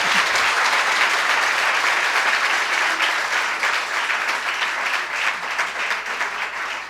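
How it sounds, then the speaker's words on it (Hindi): An audience at a Jain religious discourse gives sustained applause, a dense, even wash of many hands clapping for several seconds that gradually eases slightly. "कम से कम ताली में तो अच्छी मेहनत कर लिया करो"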